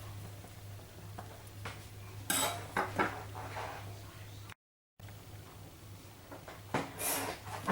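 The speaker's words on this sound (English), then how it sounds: "with a sharp knife we just trim it away all extras." A sharp knife trimming the excess from a layered birthday cake, with soft scrapes and a few clinks of the blade against the plate or board, set against a quiet room hum.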